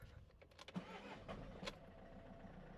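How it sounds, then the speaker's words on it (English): A Citroën van engine cranking and catching, a few short starter bursts then a low idle settling in, faint and close, with no talk. "There we go, fired up first time. That is this Citroën back out on the road."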